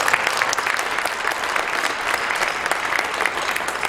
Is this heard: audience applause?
yes